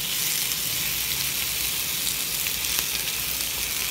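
Marinated chicken breast fries in a pan with a steady, hissing sizzle, close and fairly loud, with a few faint pops and no voices.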